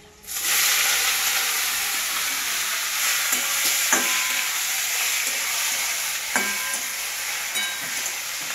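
Greens (saag) frying in a hot pan give a steady, loud sizzle and hiss that runs the whole time, broken by a few sharp scraping stirs of the spatula. No one speaks.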